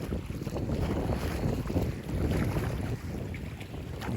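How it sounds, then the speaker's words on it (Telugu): Strong wind of about 60 km/h buffets the microphone at a reservoir, a loud, continuous rumbling roar with water washing and lapping beneath it. "గాలి అయితే చాలా ఎక్కువగా ఉంది. 60 కిలోమీటర్ వేగం ఉంది ఇక్కడ."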